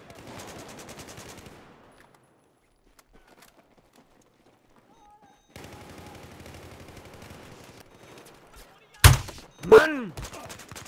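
Battlefield 4 video game gunfire: quiet stretches give way to two sharp, loud shots near the end, with faint game noise and background activity earlier.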